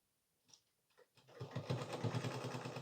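A sewing machine stitches a 40-inch blouse. A few soft taps lead into a fast, even mechanical whirr that runs steadily and close by to the end.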